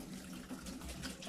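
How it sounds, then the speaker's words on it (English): Water runs steadily from a tap while vegetables are rinsed, a soft continuous splashing close by with no talk. "You can help your mommy wash the vegetables"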